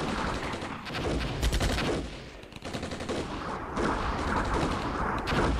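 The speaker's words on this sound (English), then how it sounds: "they're using their mortars to fire upon us" Mortar and gunfire in the wargame Armored Brigade, a dense, continuous barrage of sharp reports and booms layered over rumbling battle noise, loud and unbroken throughout.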